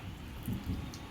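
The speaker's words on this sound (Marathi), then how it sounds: "भरपूर कंटिन्यू पाणी चालू आहे" Heavy, continuous rain falls as a dense, steady patter and hiss, fairly quiet, with slight swells in intensity.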